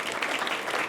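Wedding guests applauding together in a reception room, a dense, steady burst of clapping from a crowd, fairly close and continuous throughout.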